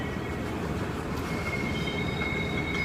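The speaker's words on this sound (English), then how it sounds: "They're calling what they call humping cars. They're on a big hump up here, so they push them down the hump" Rail cars being pushed down the hump in a large classification yard, with loud continuous rumble of rolling stock and steady high-pitched wheel squeal running throughout.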